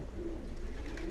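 Racing pigeons in a loft give a brief, soft, low coo over a steady background hum.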